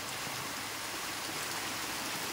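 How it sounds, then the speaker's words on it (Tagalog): Floodwater rushes strongly beside a house during Sunday night's heavy rain in Lopez, Quezon Province. The dense, steady hiss of water and rain fills the scene without pause or voices. "Malakas ang agos ng tubig."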